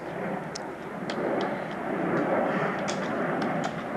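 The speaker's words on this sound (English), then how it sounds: "There's another airplane over there" An airplane drones steadily overhead, a broad continuous roar holding level for several seconds with no voices.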